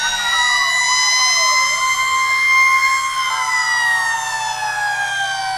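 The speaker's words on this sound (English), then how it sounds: "the Rockwood Fire Department with Santa riding on top" Fire truck siren sounding loud and close throughout at a Christmas parade, the Rockwood Fire Department engine carrying Santa on top, its wailing tones sweeping steadily over a low engine rumble with no talk.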